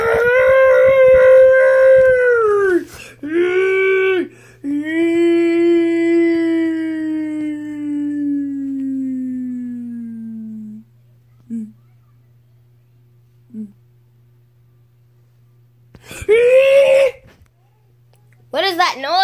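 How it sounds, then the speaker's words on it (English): A Godzilla roar, likely voiced or played in a children's superhero play scene, rises as a long, loud, howling cry that slides downward over several seconds. A second, shorter roaring burst comes later, with brief quiet sounds in between. "It's Godzilla"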